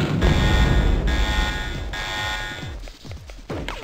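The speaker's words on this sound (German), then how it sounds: "Alarmstufe rot. Alarm." Pulsing electronic alarm in the video game Crusader: No Remorse, loud repeating buzzer tones sounding in bursts over game noise and effects.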